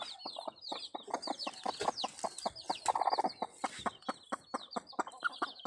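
Chickens and chicks on a small Quezon farm cluck and cheep in a busy, overlapping stream of short calls, close by, with peeping chicks woven through steady hen clucks.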